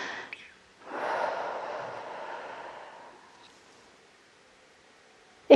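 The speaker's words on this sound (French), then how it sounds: "Écoute et ressens ta respiration" A single long, soft breath in and out, close and alone in a quiet room, ending in a brief sharp sound.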